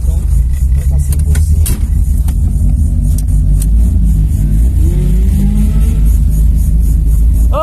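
A 1987 VW Gol GL with a naturally aspirated engine, still cold, revs while driving around the block, a steady loud engine rumble with rising and falling pitch.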